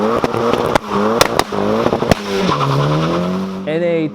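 Turbocharged first-generation NA Mazda Miata driven hard, loud and close, engine pitch rising and falling through revs with tire squeal and sharp pops, speech in the background.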